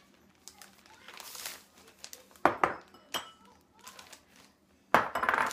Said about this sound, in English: I'm going to add the sugar and cinnamon into a gallon bag